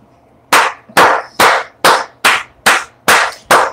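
Eight sharp, evenly spaced claps at a hip-hop event hosted by a rapper, loud and close, each a single hard smack with a short decay, no talk over them.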